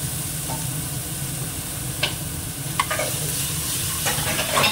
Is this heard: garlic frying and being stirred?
yes